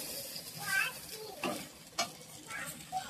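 Taro stolons and chopped onion fry in a pan with a soft, low sizzle, broken by a few distinct scrapes and knocks as a spatula stirs them, fairly quiet and close.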